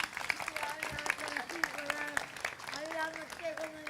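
Studio audience applause at a televised Ramzan iftar transmission, a patter of claps running beneath steady talking throughout.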